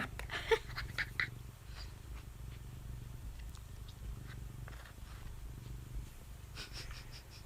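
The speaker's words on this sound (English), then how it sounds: "This person owns an overly aggressive romantic cat." A cat purrs steadily and softly close up for several seconds, a low continuous rumble broken by a few small clicks and rustles.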